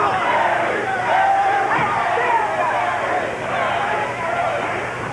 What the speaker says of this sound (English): His teammates cheering him on